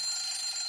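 Alarm clock ringing with a bright, continuous electronic trill, brief and fairly faint, with no voices.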